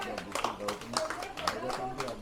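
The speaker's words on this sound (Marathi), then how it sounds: "जोरात टाळ्या वाजवा." Audience clapping at a public political speech in Mumbai, scattered, moderately quiet claps mixed with crowd voices.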